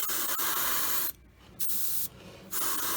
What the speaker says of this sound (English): Still spraying nice